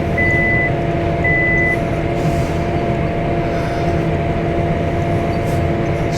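Two short electronic beeps from a planter monitor sound over a loud, constant engine drone, with the machinery rumble continuing steadily afterward.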